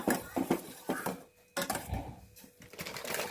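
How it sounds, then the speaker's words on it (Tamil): An agar seaweed mixture is stirred steadily in a metal pot, with repeated scraping clinks and knocks of a spoon against the pot coming in irregular bursts with short pauses between them. "கைவிடாத நல்லா கிண்டிக்கிட்டே இருக்கணும்"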